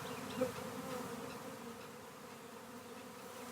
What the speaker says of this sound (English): You see that bee right there fanning like crazy?